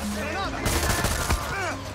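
Gunfire in Far Cry 6, a quick burst of several sharp shots in the middle of a short stretch, loud and close, with a voice talking before and after.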